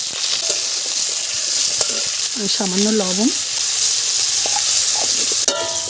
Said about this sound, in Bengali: তেলের উপরে আমি আলু দিয়ে দেবো,